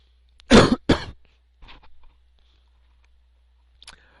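Two sharp, loud coughs from a person sitting near a microphone, followed by a softer throat-clearing rasp and a quiet room with brief small noises.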